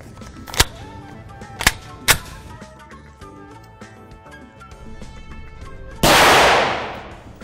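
Three sharp gunshots from a firearm firing 5.7 rounds at a cable fixed to poster board downrange, loud and irregularly spaced over faint music, followed by a louder sustained burst of noise that slowly fades.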